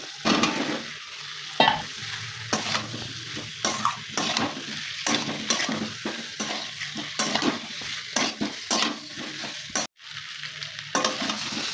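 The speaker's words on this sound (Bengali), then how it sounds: "একটু গাঠিটা আমি ভালো করে কষিয়ে নিয়েছি মশলাটা দিয়ে।" Boiled taro stems fried with spices in a pan give a continuous close sizzle, broken by frequent rhythmic scraping strokes of a utensil stirring against the pan.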